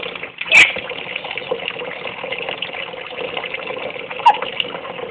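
Water sloshes and splashes steadily in a bathtub at bathtime, a continuous close wash of noise with a couple of sharp brief splashes or knocks, no talk heard.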